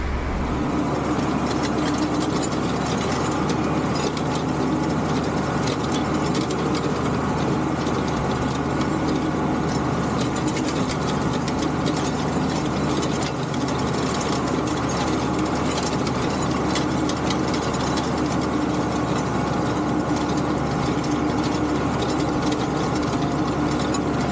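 A tractor-drawn hay tedder shaking out grass cut the day before, dry on top: a loud, continuous mechanical clatter and rattle of the tines and gearing over a steady engine drone, with no pauses and no talking.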